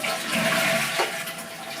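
A hotel room toilet flushes with a steady rushing hiss of water that swells and drains away over a couple of seconds, close and alone.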